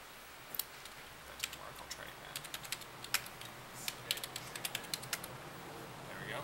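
Someone types login credentials on a computer keyboard, a quick irregular run of light, close key clicks over a quiet room hiss, with no voice over the taps.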